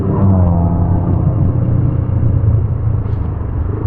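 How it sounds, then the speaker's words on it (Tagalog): Loud, bassy muffler exhaust of a Motorstar Z200ii motorcycle on the road, a continuous deep engine rumble with steady throbbing low tones close up, with no talk over it. "malakas din po kasi yung muffler niya. Medyo maingay, ma-bass."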